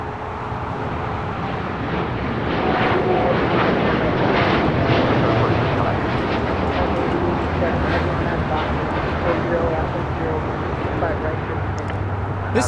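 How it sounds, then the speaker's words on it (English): An Air Tahiti Nui Boeing 787-9 Dreamliner takes off at Los Angeles airport, its engines a deep, broad roar that stays loud and steady throughout, with a little wind rumble on the microphone. "This is Air Tahiti Nui Flight 8, taking off to Paris, 787-9 Dreamliner."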